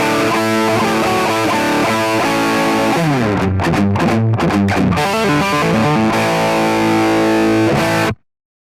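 Heavily distorted electric guitar through a Line 6 Helix plays sustained chords and a descending run, loud and close, then cuts off abruptly.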